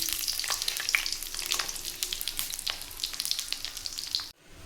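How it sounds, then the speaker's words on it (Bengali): Bori, small lentil dumplings, crackle and sizzle steadily in hot oil in a home kitchen, with bright spitting pops throughout before the sound cuts off abruptly near the end. "এরপরে বড়িগুলো ভেজে তোলার পর"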